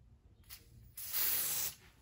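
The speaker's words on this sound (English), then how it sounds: "Spray again." A short aerosol hair spray hisses twice during a hair install, a brief faint burst followed by a longer, stronger spray of about three-quarters of a second, close up.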